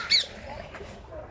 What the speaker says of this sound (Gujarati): પોપટ બોલ્યો, પોપટ આ જાય પોપટ.